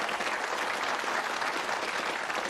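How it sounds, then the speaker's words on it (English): A studio audience on the UK game show Bullseye applauds two departing contestants, a dense, even roar of clapping at moderate level throughout the brief moment, with no talk over it. "give them a round of applause"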